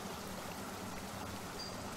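Water gushing steadily from a burst pipe at an abandoned railway platform in the game The Last Dream, a continuous broadband rush with no talk.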